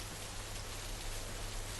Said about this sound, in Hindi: ये बारिश शायद आज हमारे लिए ही हो रही थी